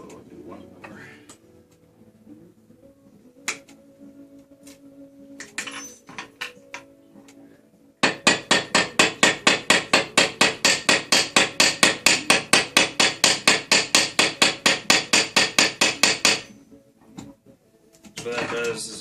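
A metal hammer rounding and flattening a rivet head at a jewelry bench: scattered single taps first, then a fast steady run of close, ringing blows for several seconds, with a voice speaking around them.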